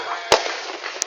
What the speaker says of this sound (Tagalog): Nakikita nyo po ay nagpuputukan at buong Cebu po ay nagpuputukan